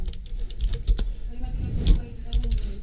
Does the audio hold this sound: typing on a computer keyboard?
yes